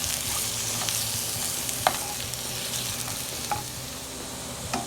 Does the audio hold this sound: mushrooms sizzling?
yes